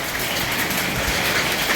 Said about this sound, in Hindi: और आज की बारिश में देखिए हमारे यहाँ बर्फ़ पड़ रहा है।